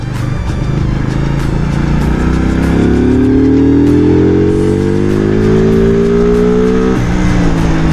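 Morbidelli C252V V-twin motorcycle accelerating hard, engine note climbing steadily in pitch for several seconds before easing off, loud and close with wind rush.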